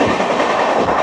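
Garib Rath and Balurghat Express trains pass each other in the rain, a loud, steady rush of rolling wheels and rail rumble close by, with faint clickety-clack and no voices.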